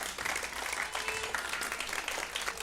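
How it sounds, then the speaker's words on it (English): Applause from a theater audience after a performance by young people, a quiet but steady crackle of many hands clapping, heard from a distance and continuing throughout. "please give these young people a round of applause"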